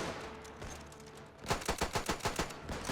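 Troops fire in a World War I video game, a rapid rattling burst of repeated gunshots after a quieter opening, loud and close.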